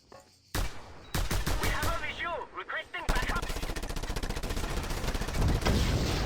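Bursts of Just Cause video game gunfire and explosions, first as sharp separate shots and then as sustained rapid automatic fire, loud and continuous.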